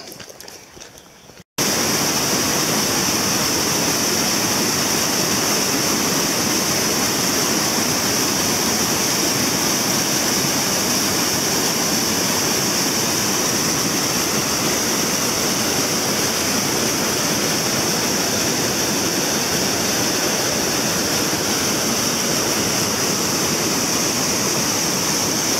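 Steady, loud broadband rush of a small stream flowing in northern Hérault, France, continuous and close after a brief quiet start, with no voices.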